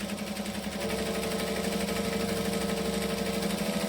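A sewing machine runs steadily along the edge of a bag strap for a camera bag, its motor hum and rapid needle rhythm continuous and close throughout, at a moderate, even pace.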